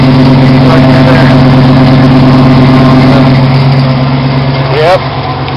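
A lifted 1996 Ford F-150 with a Flowmaster exhaust idles on a cold start, making a loud, steady, deep rumble close by, and people talk over it.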